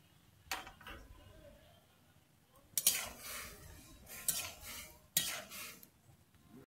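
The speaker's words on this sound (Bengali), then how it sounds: "আমার জলটা গরম হয়ে গেছে। আমি এর মধ্যে দুটো ম্যাগি দিয়ে দিচ্ছি।" Two Maggi noodle cakes are dropped into hot water in a pan, with a few sharp clinks and clatters of utensil against metal separated by quieter stretches, close and moderately loud.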